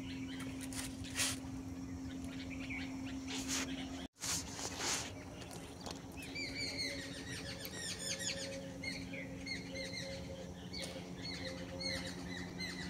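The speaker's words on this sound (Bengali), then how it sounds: "পাখিরা সব ঘরে ফিরে যাচ্ছে, আর পাখিদের কি সুন্দর মানে আওয়াজটা আমি আপনাদেরকে শোনালাম।" Birds at dusk, heading home for the evening, chirp and tweet in quick repeated bursts partway through, moderately near against a faint background hum and scattered clatter.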